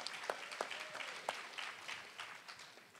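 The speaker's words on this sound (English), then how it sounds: "You can applaud that." A political club crowd claps steadily for a few seconds at a meeting, a dense wash of applause with a few sharper individual claps standing out.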